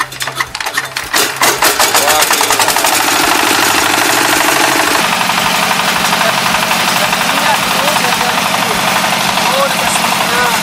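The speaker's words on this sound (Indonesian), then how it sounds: "Kalau mau nyetak, nyala mesinnya dulu." A brick-making machine's engine for pressing red bricks starts up and settles into a loud, steady, close chugging idle with a rapid regular knock, running continuously through the clip while people talk at times over it.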